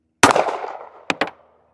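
S&W Bodyguard .380 ACP pistol firing Hornady Critical Defense rounds: one sharp, loud shot with a ringing decay, followed about a second later by two quick fainter cracks close together.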